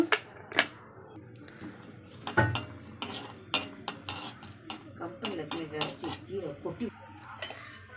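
Spices dry-roasting slowly in a pan for a cold-relief soup, with a utensil scraping and stirring them in repeated close, clattering strokes and a few faint clinks, continuing steadily throughout.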